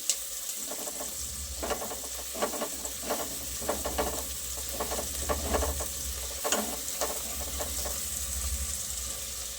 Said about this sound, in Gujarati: લસણમાંથી કચાસ થોડી દૂર થાય ત્યાં સુધી આપણે એને તેલમાં શેકી લઈએ